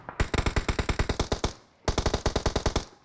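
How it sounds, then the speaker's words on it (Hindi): Rapid bursts of automatic gunfire in a PUBG match, two long volleys of loud, evenly spaced shots separated by a brief pause, with no voices over them. "चारों तरफ से फायरिंग लगातार"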